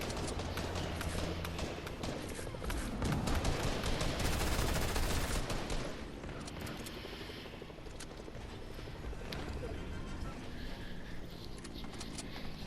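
Gunfire in Fortnite, with dense bursts of shots and impacts over continuous game noise, loudest in the middle, then lighter scattered shots.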